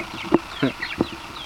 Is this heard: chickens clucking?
yes